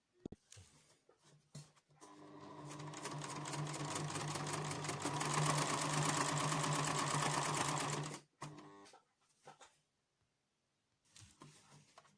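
A sewing machine runs for about six seconds stitching fabric with piping, needle set far left, its fast close whirring rattle starting and stopping abruptly, with quiet handling clicks before and after.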